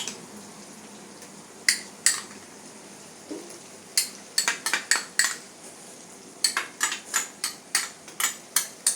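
A metal spoon clinks and scrapes against a pan as ginger garlic paste is stirred into jackfruit masala, with sharp taps coming in irregular clusters, louder toward the end.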